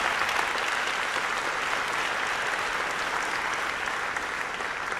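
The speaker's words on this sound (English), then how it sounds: "Give him a big round of applause for that" At a university Founders Day address, an audience gives a steady, even round of applause for a faculty member's election to the National Academy of Sciences, dense and sustained, slightly distant.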